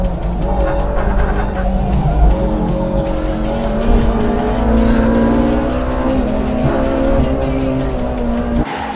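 A Honda Civic FD2 and a Civic FN2 race on a mountain road, engines droning loud and steady with shifting pitch through corners and faint tire noise, no talk.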